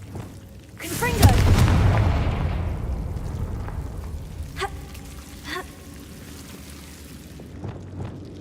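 The Confringo blasting spell in the Hogwarts Legacy video game, a single loud explosive boom that swells and rolls off into a long fading rumble, followed by a few small pops and crackles.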